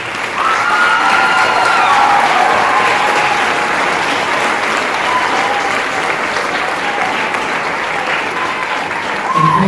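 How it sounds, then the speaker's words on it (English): Sustained applause from the audience at a middle school spring band and choir concert fills the hall, loud and steady for the whole stretch, with a few faint voices and cheers mixed into the dense clapping. "So we give all of them one more round of applause."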